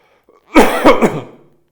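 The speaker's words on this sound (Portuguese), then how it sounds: "Eu tô tossindo." A person coughs up close, a few harsh, rapid throaty bursts in one fit, loud and raspy, then trailing off into quiet.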